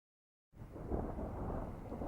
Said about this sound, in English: Some thunder noise.